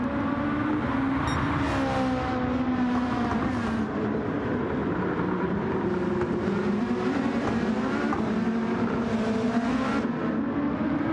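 Race cars in Gran Turismo 7 roar past one another on the Montreal circuit. Several engines whine and rise in pitch as one car pulls ahead during an overtake, making a dense, continuous high-revving drone throughout.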